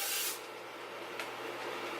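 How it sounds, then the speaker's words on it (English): A short burst of cooking spray from an aerosol can hisses at the start, followed by a quieter brief spritz into the inside of a cup, with a steady low hum underneath. "take you some cooking spray and just spray the inside of the cup"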